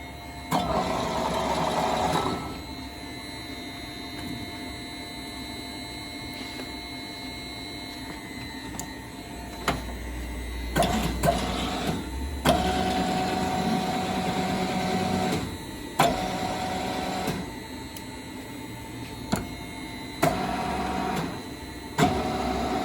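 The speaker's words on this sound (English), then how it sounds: "Here's your rapid traverse." A Poreba TPK110 heavy lathe's carriage moves in rapid traverse, giving a mechanical motor hum that starts, stops and shifts several times, with clunks and clicks between runs.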